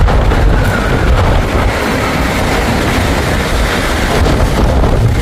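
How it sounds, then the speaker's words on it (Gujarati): Strong wind roaring outdoors in Canada ahead of forecast rain, a loud, constant buffeting rush that batters the microphone throughout with no pauses. "પવનનો અવાજ તમને આવતો હશે"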